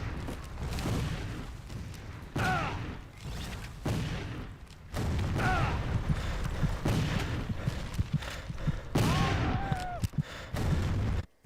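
Cannon and gunfire booms in an Xbox 360 Civil War video game, loud repeated blasts in irregular bursts over a constant battlefield din, with shouts and a bugle-like tone mixed in.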